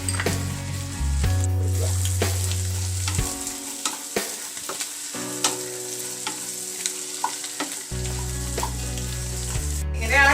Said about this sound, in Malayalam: അടുത്തതായി നമ്മൾ ഫിംഗർ ചിപ്സ് ഇതിലോട്ട് തട്ടി കൊടുക്കുക.